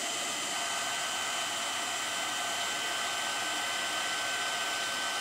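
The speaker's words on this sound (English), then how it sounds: "Always make sure you hold your heat gun away from your fingers." Steady, continuous airy blast of a heat gun used for heat embossing a stamped card, held close and loud for the whole stretch with no talking over it.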